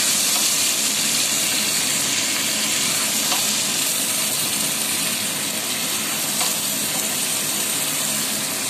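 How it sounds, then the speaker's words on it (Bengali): Potatoes frying in oil with cardamom, whole cumin, bay leaf, dried chillies, chilli powder and turmeric for a vegetarian aloo dum, giving a steady, dense sizzle with a broad hiss throughout, close and fairly loud with no talking. "সব একসাথে ভাজা ভাজা করব।"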